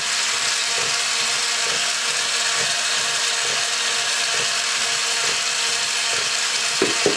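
A 1993 TOMY toy robot with its bump-and-go drive switched off runs in place, giving a steady mechanical whir with a regular clicking ratchet rhythm repeating about once a second, close and even.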